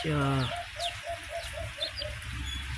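Male alimukon dove cooing in a breeding setting: a series of about seven short, evenly spaced soft coos, moderately close, preceded by a brief louder harmonic call and with faint background chirps.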